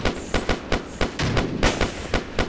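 Grenades launched from an amphibious assault vehicle in ARMA 2: a steady series of sharp, booming launches and impacts in irregular rhythm, loud and fairly close, with no voices.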